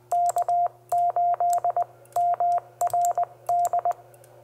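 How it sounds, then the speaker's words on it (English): Relays in a Micro PA50 Gen3 amplifier click rapidly during CW break-in keying, in quick bursts of sharp ticks alongside steady beeping Morse tones and a low hum. "you can kind of listen to the relays"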